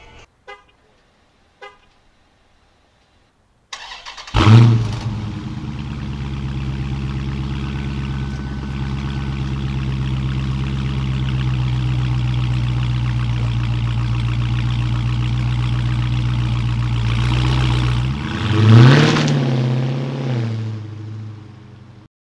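A 2018 Dodge Charger Scat Pack with the 392 engine starts up and settles into a deep, steady idle, then revs sharply once near the end before easing back down.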